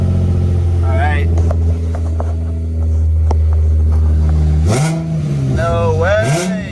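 A drift car's engine idles with a deep steady rumble, then revs up sharply twice near the end, the pitch climbing and falling with each blip, loud and close with voices over it.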